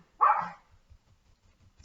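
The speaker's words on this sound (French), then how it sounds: "Désolée pour mon chien qui aboie." A single sharp dog bark indoors, close and fairly loud, followed by quiet rustling and a faint short noise at the end.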